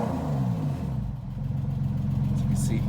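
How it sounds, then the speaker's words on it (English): A 2001 Porsche 911 GT3 engine revs up and settles into a throaty, pulsing exhaust rumble, loud and close, with a brief rising whine at the start. "Hear how fun this exhaust system is."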